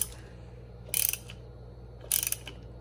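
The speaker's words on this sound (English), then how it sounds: "we can safely put our negative battery terminal back on and tighten down the 10mm nut on top" A ratchet tightens the 10mm nut on the negative battery terminal of a 2008-2012 Chevrolet Malibu, in two short bursts of rapid clicking about a second apart over a faint steady hum.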